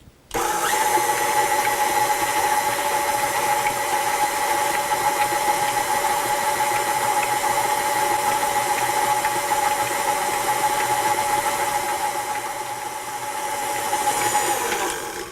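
Electric hand mixer beating vanilla cake batter at a middle speed setting, a steady loud motor whine with a constant pitch that runs alone for about fifteen seconds, barely wavering.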